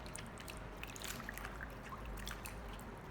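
Water trickling and splashing softly while leafy greens are rinsed in a basin, faint intermittent drips and pours over a low steady hum, with no talking.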